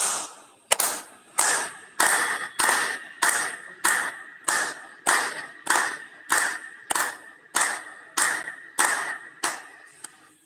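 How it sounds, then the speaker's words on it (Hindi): A group claps in unison at a yoga session, about fifteen sharp, evenly spaced claps over ten seconds with a steady rhythm, close and clear with no talking. "ताली बजा ले पूरे सदन के लिए।"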